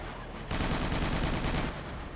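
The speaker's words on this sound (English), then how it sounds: "This is the anti-aircraft gun that the Hardass developed." Anti-aircraft gun blazing away in the shooter Killzone 2, a dense rapid stream of shots lasting just over a second, loud and close over a constant roaring battle din.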